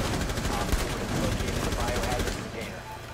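Sustained automatic gunfire in Rainbow Six Siege as a player shoots at a wall, dense rapid shots running for most of the moment before tapering off near the end; other players' voices chatter alongside.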